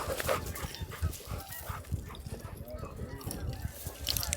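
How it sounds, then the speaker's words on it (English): Canada geese honk in repeated calls at moderate distance during a September opening-day waterfowl hunt in Alberta, with hunters talking over and between the calls. "I like those honkers."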